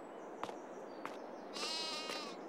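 Sheep in Farming Simulator 22 bleat from a sheep barn on the Fairhead map: one drawn-out, wavering bleat after a couple of faint clicks, set against quiet ambient hiss.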